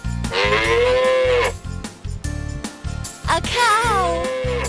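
A cow moos twice in a row, loud and close, long drawn-out lowing calls with a short pause between them, alone without talk.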